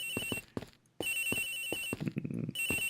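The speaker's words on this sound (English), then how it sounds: "The ringing is coming from somewhere around here." A telephone rings in the detective game Miles Edgeworth Investigations, sounding as repeated bright electronic ring bursts separated by short pauses, clear and fairly close.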